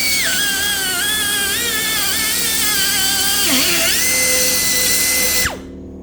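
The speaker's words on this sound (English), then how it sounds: "I will then have to just clean these holes out with Dremel, or with die grinder, whatever you want to call it" A Dremel-style die grinder whines steadily as it cleans out bolt holes in metal, its pitch dipping briefly under load before the motor cuts off and spins down near the end; loud and close, no talking.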